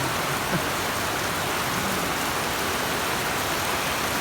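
Heavy rain pours down in Dauis, Bohol as a dense, constant hiss, loud and even throughout with no pauses.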